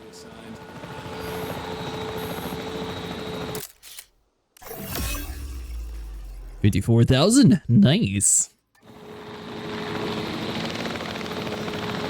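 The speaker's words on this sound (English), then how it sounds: "Exit the capture helicopter." Steady helicopter rotor drone in the video game Jurassic World Evolution 3, with people talking over it, a brief camera-shutter click and a dropout, then the whirring resumes.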